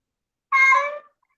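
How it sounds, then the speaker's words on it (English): Single clear meow from a Bengal cat, close and fairly loud, about half a second long, with silence around it. "He's a Bengal cat."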